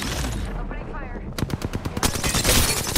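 Video game gunfire, Ballistic's smart-bullet weapon in Apex Legends, erupts as a rapid burst of close, loud shots under an announcer voice, following a stretch of busy in-game noise.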